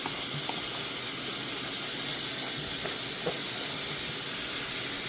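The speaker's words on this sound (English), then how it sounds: "I wash and rinse the bottom of the pot she sits in" Running water rinses the bottom of a Miltoniopsis orchid pot, a steady close hiss that holds evenly throughout with no talk.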